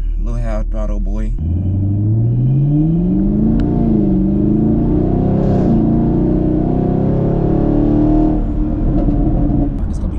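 A car engine rises and holds at a loud, close rev, with a crackling exhaust throughout the rumble. A voice is heard briefly at the start before the engine swells.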